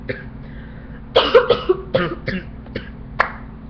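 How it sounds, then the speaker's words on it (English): Several sharp coughs in a quick cluster, close and fairly loud, followed by a couple of softer, spaced coughs over a low steady hum. "See, coughing."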